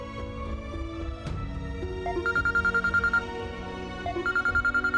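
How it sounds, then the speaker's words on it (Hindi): A telephone rings in repeated electronic bursts, fairly loud and close, over a soft background of music-like tones with no talking. "अम्मार का फोन है, स्पीकर ऑन करती हूँ"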